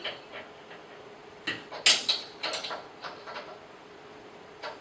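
Guide bearing on a bandsaw blade being tightened, heard as a series of close metallic clicks, creaks and ratcheting scrapes in short bursts with quiet gaps between, no talk.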